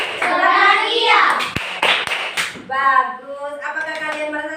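Children clap their hands in rhythm during a classroom surah memorization game for Surah Al-Kafirun, the claps punctuating loud group chanting and a teacher's voice.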